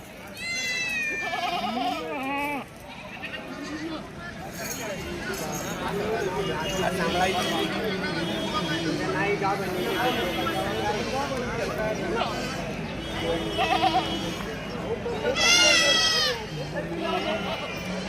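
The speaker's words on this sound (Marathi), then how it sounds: "चांगल्या शेळ्या आहेत" Goats bleat repeatedly at a weekly livestock market in Shirur taluka, Pune district, with close, wavering cries breaking out several times over constant crowd noise while people talk nearby.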